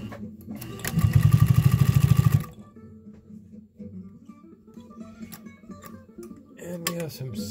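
A sewing machine fitted with a leather needle and a strong 1.4 amp motor stitches through thick leather in a loud, rapid burst of even needle strokes lasting about a second and a half, then quieter handling sounds follow.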